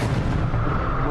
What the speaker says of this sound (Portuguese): Uma supernova é uma estrela que termina sua vida em uma explosão maciça.